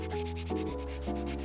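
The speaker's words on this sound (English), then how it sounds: "Here I'm just sanding it down as best as I can" Bondo filler being sanded by hand on a painted prop, a steady close rasping rub in short back-and-forth strokes, alone with no voices.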